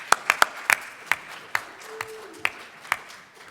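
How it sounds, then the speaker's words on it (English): A small audience gives a sparse round of applause for a speaker at a building-decarbonization program event, with about ten distinct, scattered claps that thin out over a few seconds in a quiet room. "Big round of applause for Pat."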